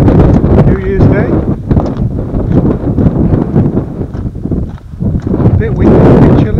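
Wind blows outdoors on a hill walk near Wast Water on a chilly, dry New Year's Day, loud rumbling gusts hitting the microphone continuously, dipping briefly before swelling again.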